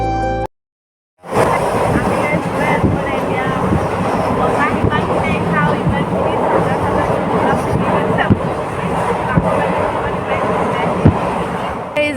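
Steady broadband rumble and rattle of a moving passenger train in India, heard from inside the carriage, continuous and fairly loud after a brief silent gap at the start, with faint voices mixed in.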